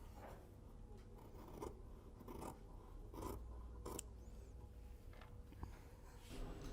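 Scissors snip through coat fabric to cut a stand collar, a few quiet, spaced cutting strokes over a faint steady background hiss.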